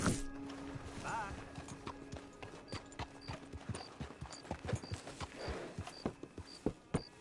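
Horse hooves clip-clop on the ground in a video game, an uneven series of close, hollow thuds under game voices talking, with buzzing insect sounds mixed in.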